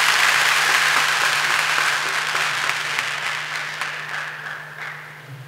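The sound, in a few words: applause for keynote speaker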